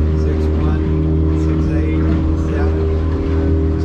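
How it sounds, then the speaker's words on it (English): A small kicker outboard on a 2022 North River 25-foot boat runs steadily at idle, a constant low drone with tonal hum that continues evenly throughout without pauses. "So that's the kicker motor"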